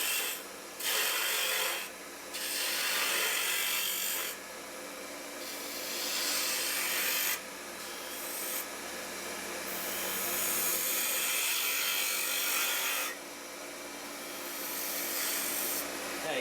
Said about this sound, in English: Got all that with a gouge, a ball gouge.